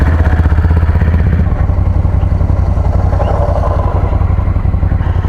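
Adventure motorcycles, a DR 650 and a KTM 690, idle and set off for a ride toward Lakefield, a steady close single-cylinder engine thrum with mechanical clatter, one engine dropping away partway through.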